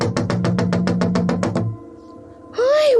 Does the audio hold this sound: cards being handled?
no